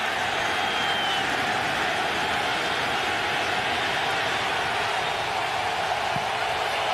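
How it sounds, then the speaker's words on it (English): Home crowd at the Washington Redskins stadium during an Eagles NFL game, a broad steady roar of cheering that fills the whole stretch evenly without breaks. "This now sounds like a Washington Redskins crowd"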